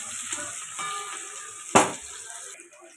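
Onion and green chili frying in plenty of hot oil, a steady close sizzle with a sharp burst of crackling midway, then settling back to a softer hiss.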